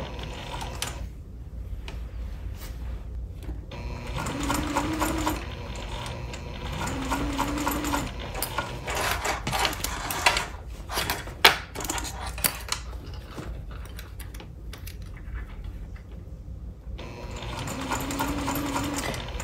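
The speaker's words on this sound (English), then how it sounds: "backstitch to secure the stitching" A sewing machine stitches the fabric of a dust cover for a Cricut Maker, a busy mechanical whir pausing and restarting for short backstitches, with clinks and rattles around it.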